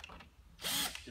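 A power drill loosens screws on a Goodman cased coil, a short close whir in a quiet room following a few faint mechanical clicks.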